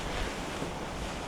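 Strong wind buffets the microphone outdoors in the northeast, a loud continuous rumbling roar with no speech.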